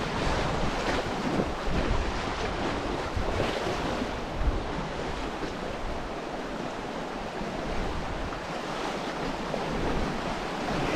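Moving water on the Snake River swells and ripples in a continuous broad wash, heavily mixed with wind buffeting the microphone, steady and fairly loud with no voices.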